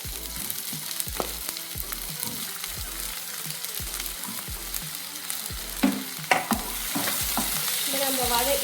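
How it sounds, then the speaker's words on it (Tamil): Onion, tomato, ginger and garlic sauté in hot oil in a pan, a steady sizzle broken by repeated scraping stirs of a spoon, close and fairly loud, with no one talking. "இதை நம்ம நல்லா வதக்கி அரைக்கிறதுக்கு நல்லா வதக்க போகிறோம்"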